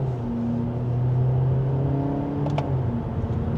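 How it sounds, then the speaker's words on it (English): Kia K4 sedan accelerating from second gear, a steady engine drone with rising harmonic tones under a constant road rumble, close and fairly loud throughout, with a brief higher whine near the end. "And we'll do one more acceleration from second gear."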